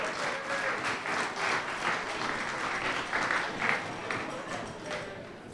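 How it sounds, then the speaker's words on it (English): A room full of wedding guests applauds, dense steady clapping that holds throughout without talk. "Can we get a round of applause for that?"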